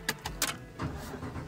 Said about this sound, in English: And now, time to start this truck.